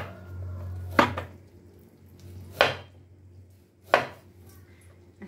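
Plantains being sliced diagonally with a knife on a board, three separate sharp chopping knocks spaced about a second or more apart against a quiet low hum.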